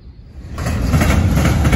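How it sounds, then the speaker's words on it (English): A Norfolk Southern freight train with a classic Illinois Terminal hopper starts moving again after a sudden stop, its rumble and rolling wheel noise swelling loud and close. "Okay, this train's on the move again."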